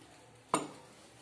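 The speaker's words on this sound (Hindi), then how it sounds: "और इसको हम इस तरह से मिला लेंगे। तो सूजी, चीनी और मूंगफली और नारियल, तो हमने इनको सबको मिला लिया है।" Semolina, sugar, peanuts and coconut mixed with a few spoons of oil in a bowl: one short, close scraping stir stroke stands out against a quiet background.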